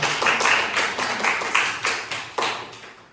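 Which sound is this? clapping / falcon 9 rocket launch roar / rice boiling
clapping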